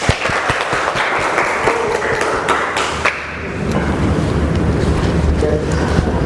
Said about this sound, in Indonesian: Kita kasih aplaus dong.